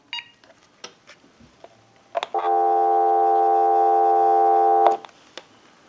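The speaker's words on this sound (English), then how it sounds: "We'll give you some dial tone." A few scattered clicks and taps, then a steady dial tone from an AT&T 5450 cordless telephone under repair hums loudly for about two and a half seconds before cutting off.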